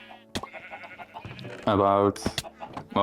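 Sheep bleating in a multiplayer Minecraft-style survival game: short bleats under near-continuous talk, one louder held bleat standing out briefly before the chatter resumes.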